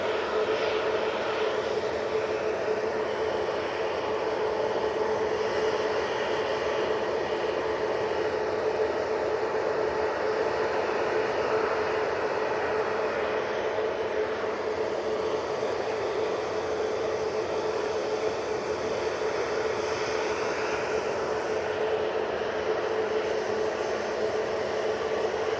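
An airplane's engines roar steadily at Manchester Airport during takeoff, a loud, continuous broadband rumble with a sustained tone heard at a distance, without talk.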